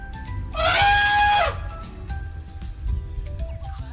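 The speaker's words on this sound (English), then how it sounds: "Yes, it's an elephant sound." An elephant lets out a single loud, brassy trumpet blast of about one second, followed by a low, busy background rumble.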